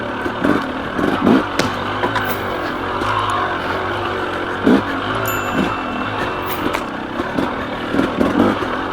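A KTM 300 XC two-stroke dirt bike revs and bogs along a technical single track trail, the engine rising and falling in uneven bursts close by, with clattering over rough ground.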